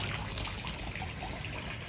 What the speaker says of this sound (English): So I'll leave that on now for probably half a day, just to do a slow water feeding.